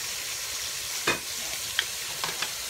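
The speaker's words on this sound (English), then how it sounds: "And sear them off real nicely." Pork steaks cut from a Boston butt sear in a pan with a steady low sizzle, broken by a few brief scraping stirs near the mic.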